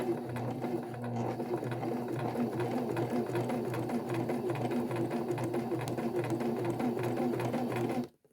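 A sewing machine stitches quilt squares for a baby quilt with blue thread, a loud, steady rhythmic whir running continuously until it stops abruptly at the end.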